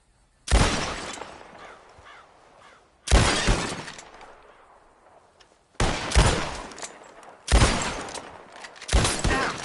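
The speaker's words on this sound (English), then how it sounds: "Who can shoot the most bottles?" Gunshots shatter bottles in Red Dead Redemption 2, five sharp, loud blasts with glassy breaking, spaced a few seconds apart, each trailing off before the next.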